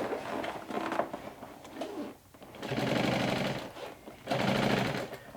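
A home sewing machine stitches a backpack seam in bursts, with steady rapid mechanical whirring that stops and restarts as the fabric is guided around curves, loud and close.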